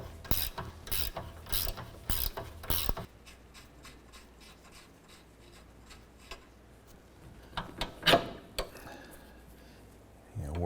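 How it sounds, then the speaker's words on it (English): A ratchet loosening a rust-treated strut nut on a 2008-2012 Honda Accord, giving rapid rhythmic clicking strokes close up, then quieter intermittent clicks and a few knocks, with some talk. "Let's go ahead and loosen this nut."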